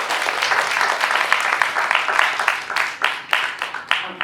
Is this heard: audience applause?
yes